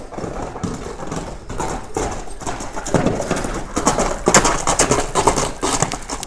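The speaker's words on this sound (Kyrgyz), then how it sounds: "Чоң ат экен." A large horse walks on hard ground, its hooves clip-clopping in a steady, continuous rhythm close by, growing slightly louder toward the end, with no talking.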